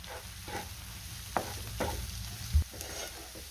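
Spice powders and chopped coriander being stirred in a pan for an egg masala, a soft scraping and sizzling with a few sharper scrapes of the spoon, close and fairly quiet, no talking.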